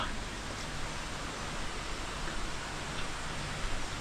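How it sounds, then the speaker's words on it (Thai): Steady rain falls at a streamside campsite in Thailand, a soft, even hiss of drops on ground and puddles that holds constant and close for the whole stretch, with no voices. "วันนี้ฝนตกไป น้ำนองเลยนะครับ"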